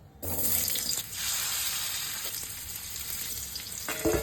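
Potatoes frying in oil with salt and turmeric in a pan send up a loud, continuous sizzle that starts abruptly, with a brief dip and small clinks of stirring near the end.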